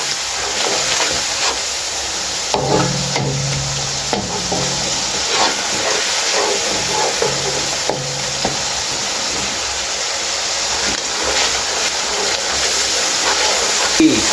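Masala spices sizzle and fry in a pan while being stirred for a vegetable curry of potatoes, peas and tinda, a steady close hiss with occasional scraping.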